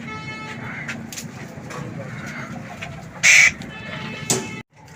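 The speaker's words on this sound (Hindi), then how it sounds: "इस केज की तरफ, जिसमें हमें काफ़ी सारे कबूतर और दूसरे परिंदे नज़र आ रहे हैं।" Pigeons, parrots and other birds kept together in a cage at a home bird house, giving faint coos and clucks over a steady background hum, with a brief sharp chirp and a short call standing out near the end.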